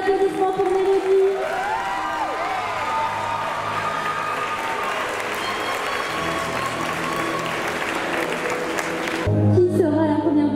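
Sustained crowd applause with some cheering fills a beauty pageant hall at the Miss Nièvre 2025 election, loud and continuous before cutting off sharply near the end.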